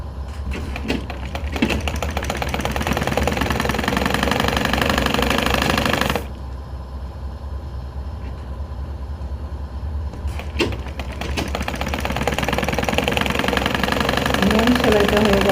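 A sewing machine stitching scraps of fabric into a dining table mat, its motor whirring in a steady close rattle that stops for a few seconds midway, then starts again and runs on.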